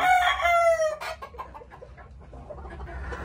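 A rooster gives a loud, close crow among chickens in a breeding pen of pullets and breeding stock, followed by scattered clucks and softer fowl calls.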